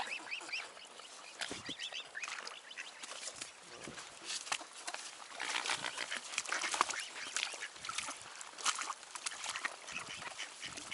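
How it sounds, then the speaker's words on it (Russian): Lively quacking from a group of ducks on the Curonian Spit, overlapping calls in a busy, continuous chorus close by, with honking from swans mixed in. "Уточки тоже очень живо реагируют."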